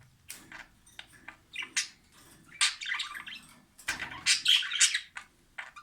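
Jumbo budgerigars, a mated pair just reunited in a cage, chirp and chatter in quick bright bursts, with sharp squawks in close succession and no one talking.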